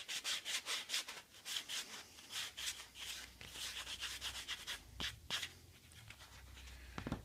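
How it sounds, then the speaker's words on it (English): Close, steady back-and-forth strokes of 120-grit sandpaper rasp rhythmically against a hard Kydex sheath edge, repeating many times with brief pauses and a few sharper scrapes. "after we're done sanding here"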